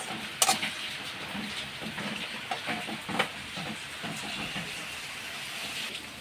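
A masala spice paste fries in a pan, giving a quiet, steady sizzle. Faint scraping stirs break in now and then, with no voices.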